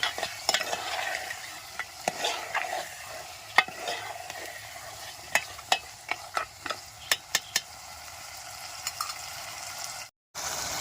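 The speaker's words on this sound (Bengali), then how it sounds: "তখন আমি মাংসটা আছে দিয়ে দেবো, ভালো করে নেড়ে চেড়ে নেবো" Meat frying in spiced oil while a utensil stirs it, a steady soft sizzle broken by frequent sharp scrapes and clicks against the pan, close and fairly quiet, with a brief dropout near the end.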